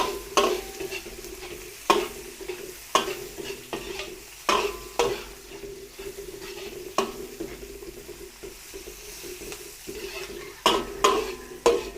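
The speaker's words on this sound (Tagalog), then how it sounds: "igigisa natin yung sibuyas, bawang at luya" Onion, garlic and ginger sautéing in a pan, a steady low sizzle with a spatula scraping and knocking the pan at irregular intervals, fairly close, with no talking.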